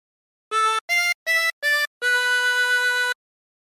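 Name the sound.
Jingle Bells phrase played on a 16-hole tremolo harmonica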